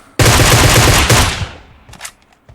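Short, loud burst of rapid automatic gunfire in PUBG Mobile, about a second of close rattling shots that cut off and leave a fading echo and a few faint clicks.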